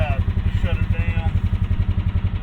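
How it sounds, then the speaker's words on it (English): A Club Car DS golf cart fitted with a Predator 459cc engine runs at a rough, pulsing idle, loud and close, with its steady low thumping continuing throughout as it is being shut down. "Shut her down."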